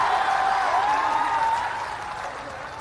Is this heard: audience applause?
yes